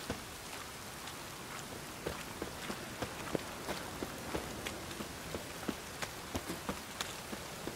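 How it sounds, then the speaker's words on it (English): Rain falls steadily in the open-world video game The Witcher 3, a soft continuous patter with scattered sharper drops and faint footsteps, without talk. "Rain again."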